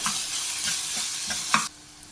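Spices with Kashmiri chili powder stirred in hot oil for methi masala, a close sizzle broken by a few soft spoon scrapes, then cut off abruptly near the end.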